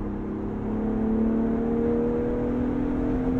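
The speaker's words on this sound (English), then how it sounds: "when I put my foot down, it can drop down a number of gears just like that" A Ford Bronco Raptor engine revs up as the transmission kicks down several gears, going from a steady drone to a rising, sustained whir inside the cabin.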